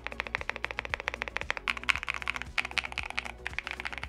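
Rapid, steady typing on an Echo Mod 005 aluminium mechanical keyboard, a dense stream of close, crisp keystrokes with a few brief pauses and no talking.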